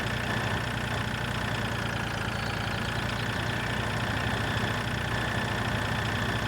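A tractor engine idles in Farming Simulator 2013, giving a steady, even drone with a faint knocking rhythm that runs unchanged throughout, with no other sounds over it.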